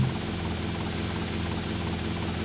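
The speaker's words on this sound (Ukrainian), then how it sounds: "Важко то, що гелікоптер різко міняє свої напрямки і ти не можеш розрахувати вогонь на випередження." Helicopter in the video game GTA Vice City, a steady rotor and engine drone that stays loud and close throughout, with no talk over it.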